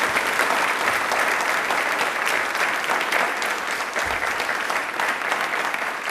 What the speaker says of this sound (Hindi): दिल से तालियां भी जोरदार होनी चाहिए उनके लिए